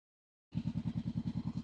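Honda CB 500X motorcycle exhaust while riding, with the microphone placed near the exhaust: after a brief silence, a close, rapid, even pulsing thrum starts and continues alone.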